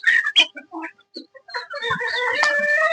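Several chickens in a hen shed cluck and squawk close by in short bursts, building into a busy, continuous chorus of calls.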